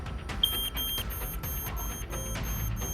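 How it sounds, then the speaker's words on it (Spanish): A battery-powered smoke detector sounds after its test button is pressed, giving a loud, shrill, repeating electronic alarm beep in short pulsed bursts with brief gaps, alone without speech. "Este detector de humo, la manera en la que lo vamos a probar es si emite sonido al presionar el botón de test."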